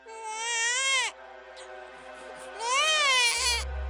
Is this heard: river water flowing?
no